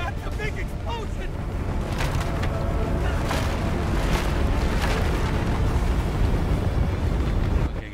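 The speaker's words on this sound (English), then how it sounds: "That's a big explosion." A big explosion rumbles through the co-op game It Takes Two, a dense, continuous roar of low booms and crackling debris lasting several seconds, with players talking over it.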